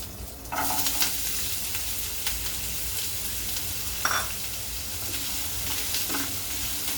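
Green chillies and carrots stir-frying in a pan, a steady close sizzle broken by a few scraping stirs of a spatula, with no voices.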